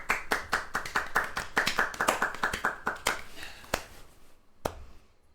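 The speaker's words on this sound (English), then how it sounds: "Can we get a round of applause for Soul?" A small group clapping in a round of applause during a tabletop gaming session, rapid distinct hand claps for about three seconds that thin to a few scattered, isolated claps.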